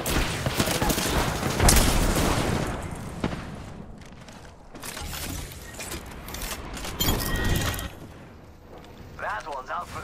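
Frag grenade blast amid a gunfight in Apex Legends, with loud booming bursts and rapid gunfire clustered early, then scattered shots and rumbling impacts; character voices speak briefly in between.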